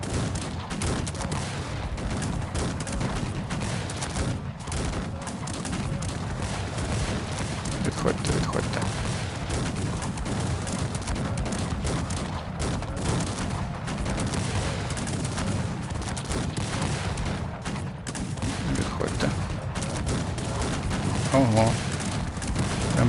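Dense gunfire from a Cossacks 3 battle, musket and artillery volleys rolling continuously as a broad crackling wash that never lets up, with faint horse hooves mixed in.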